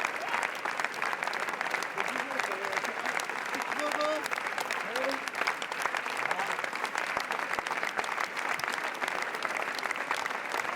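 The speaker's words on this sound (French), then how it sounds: "The applause is absolutely thunderous." Thunderous applause fills the Lumière theatre at the Cannes Festival, a dense, sustained wall of clapping from a large audience that never lets up, with a voice talking over it.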